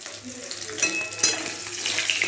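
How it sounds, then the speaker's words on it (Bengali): Fish sizzles in hot oil with a steady hiss and occasional pops, close by, while faint background noise drifts underneath. "মাছটা ভাজা হোক, তারপরে আমি দিই।"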